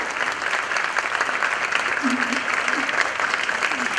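An audience applauds a doctor who mentors at a health sciences faculty, during a parents' forum; steady, dense clapping fills the room for about four seconds, with a voice briefly sounding over it.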